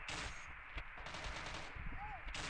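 Gunfire rattles in the video game MilkChoco, quick automatic bursts with a few sharp single shots, all fairly quiet, and a voice briefly comes through in the background.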